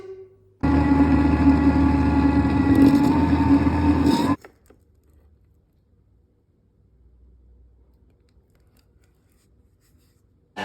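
A Thermomix blends frozen banana and vanilla into nice cream at speed 8, giving a loud, steady, whirring roar for about four seconds that cuts off abruptly into near silence.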